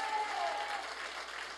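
A church congregation applauds during a Sunday morning worship service, a steady, dense clapping from a crowd that carries on throughout at an even level.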